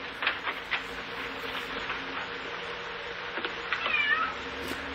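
A cat meows a few times at moderate distance over a quiet, slightly noisy room background, short thin cries spaced across a few seconds.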